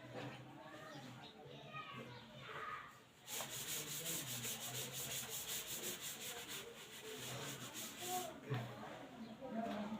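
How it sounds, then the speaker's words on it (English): Writing being rubbed off a classroom board, with short dry rubbing strokes followed by a longer burst of fast, rhythmic scrubbing, close by and mixed with a person talking. "I have just rubbed the term palindrome."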